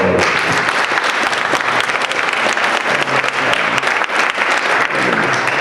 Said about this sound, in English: we really need to give them a round of applause